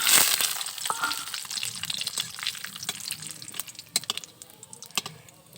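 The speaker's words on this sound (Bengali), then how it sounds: "তো প্রথমে এখন ভাজবো হচ্ছে যে কাজু বাদাম" Cashew nuts crackle and sizzle in hot white oil, a busy popping hiss that starts loud and settles into scattered crackles.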